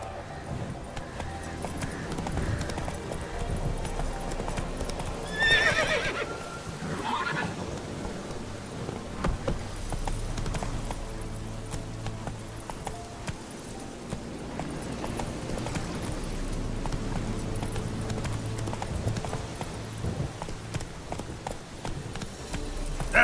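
Geralt's horse Roach gallops in The Witcher 3, hooves drumming steadily under game music and ambience, with a brief whinny partway through.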